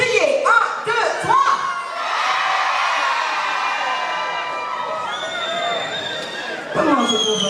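Women in a gala audience shout numbers together in a loud, ringing crowd chorus, with several rising group shouts that carry on into a sustained cheer.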